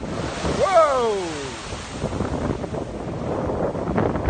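Large ocean waves surge and crash along the Boston shore after a storm, a broad, roaring wash close by with wind buffeting the microphone; a voice briefly exclaims near the start.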